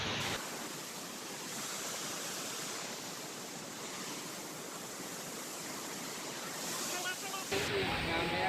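Water pouring into the Bhimkund pool after rain, a steady broadband rush close by and continuous throughout, with a brief shift in texture near the end.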